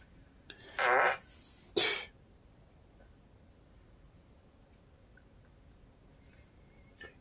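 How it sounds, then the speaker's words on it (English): Two short, sharp farts sound close to the microphone about a second apart, followed by quiet background hiss and faint ticks. "Farting to me is disgusting, especially if it's someone doing it religiously in their fucking videos like this."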